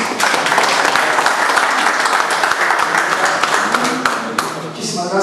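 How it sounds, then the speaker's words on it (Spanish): Loud, sustained applause from an audience at the opening of a painting exhibition, dense clapping filling the room, with voices mixed in and a brief dip near the end. "Fuerte aplauso."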